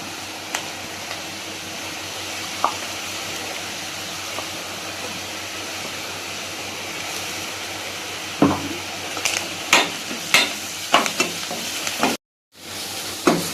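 A paste of ground coconut, garlic and cumin sizzles gently in a pan, a soft steady fry with scattered scraping stirs growing more frequent toward the end.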